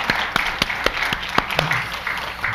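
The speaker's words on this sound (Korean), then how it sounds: "우리 감사의 박수 한번 올려드릴까요?" A church congregation claps in thanks for a member about to turn 100, a short burst of sharp, uneven handclaps from a modest crowd, loud and close, lasting just a couple of seconds.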